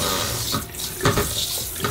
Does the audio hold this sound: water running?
yes